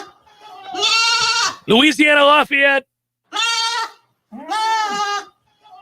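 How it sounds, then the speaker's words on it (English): Goats bleating loudly and close in a series of long, wavering calls, several in a row with brief gaps between them, overlapping a voice speaking. "Goats are awesome. I can hear the ones in the background now."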